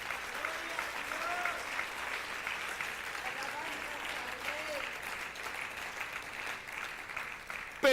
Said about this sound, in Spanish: ¿Cuántos aplaudimos el nombre del Señor?